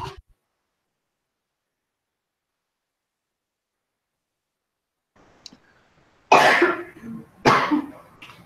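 A person coughs twice in quick, close succession after several seconds of near silence, with the bursts loud and harsh.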